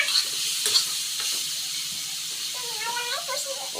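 Pumpkin being stir-fried in a pan, with a soft, constant sizzle and hiss and a few stirring knocks, plus a brief tonal squeal near the end.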